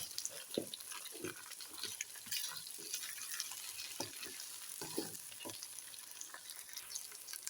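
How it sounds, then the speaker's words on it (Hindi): Okra fries in hot oil, giving a steady, fairly faint sizzle with scattered stirring scrapes and clicks in the pan. There is no talk over it. "और अब इसी ऑयल के अंदर मैं भिंडी ऐड करूँगी। ठीक है, अब भिंडी को भी हम फ्राई कर लेंगे।"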